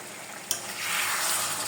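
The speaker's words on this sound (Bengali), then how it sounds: "এখন এগুলোকে ভালো করে কষিয়ে নিলাম।" Potatoes and spices frying in a pan for a Bengali egg and mustard dish, giving a soft, steady sizzle with one brief clink of stirring.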